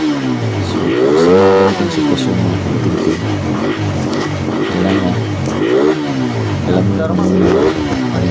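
A Raider 150 motorcycle engine under repair revs up and down repeatedly, rising and falling in pitch up close, while people talk over it.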